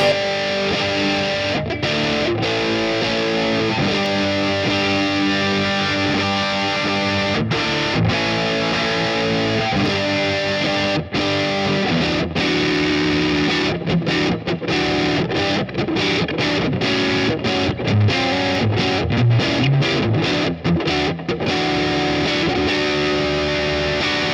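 An Ibanez QX527 headless electric guitar plays continuously with a mild, gritty distortion, full and loud throughout.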